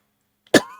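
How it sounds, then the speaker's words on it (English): A streamer coughs once, a single sharp close-up cough that trails off into a brief throaty rasp after a moment of silence. "try not to cough during the stream, but I failed"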